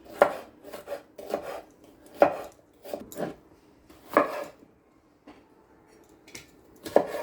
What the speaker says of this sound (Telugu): క్యాప్సికమ్స్, రెడ్ క్యాప్సికమ్ ఇలా సన్నగా పొడవుగా కట్ చేసుకుంటే